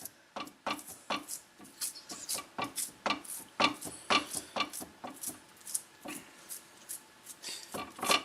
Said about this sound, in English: now you want to put the whole thing in a mass into the pan, and you want to start pressing down carefully